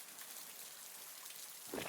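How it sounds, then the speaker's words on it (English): Heavy storm rain pours in a dense, continuous hiss, droplets bouncing off a raincoat and splashing onto a floor, steady and close throughout. "The rain falls in full fury, droplet after droplet bouncing off the old wolf's raincoat and splashing onto the floor"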